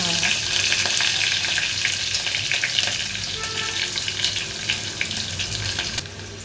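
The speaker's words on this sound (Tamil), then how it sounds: "கடுகு பொரிஞ்சது தட்டி வச்ச பூண்டு மிளகா ஆட் பண்ணிக்கலாம்" Mustard seeds, crushed garlic and chili sizzle steadily in hot oil, a loud continuous frying crackle with scattered pops that eases slightly toward the end, with no voices over it.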